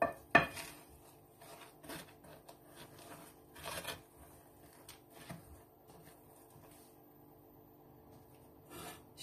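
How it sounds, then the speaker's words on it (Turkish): Pudding and crushed biscuits stirred together in a bowl for a no-bake cake, giving soft scraping and rubbing with a few sharper clinks of utensil against the dish, fairly quiet with no talking. "İyice karıştıralım her yeri."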